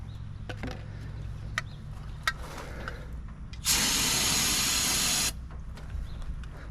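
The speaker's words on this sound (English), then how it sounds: "me try to prime the carburetor" Under the hood of an abandoned 1959 Plymouth Savoy, a few scattered clicks and taps give way to a sudden loud, steady spray hiss lasting nearly two seconds while the carburetor is primed, then the clicks return.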